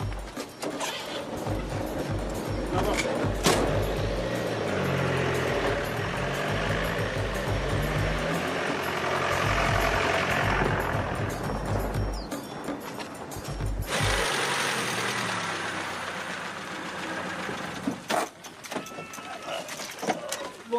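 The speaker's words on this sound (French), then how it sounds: "moteur en route." A vehicle engine runs as a steady low rumble with mechanical rattling and whooshing for most of the stretch, fading and thinning near the end, with people moving and talking faintly around it.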